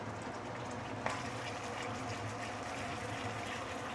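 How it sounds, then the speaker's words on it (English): Oil added to a hot pan while cooking a fish head dish, a steady low sizzle and bubbling hiss throughout with one brief sharp click near the start, no talking. "A little bit more oil here."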